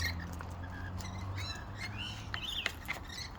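A pet bird gives several short chirps and squawks, fairly close and modest in level, over a low steady hum.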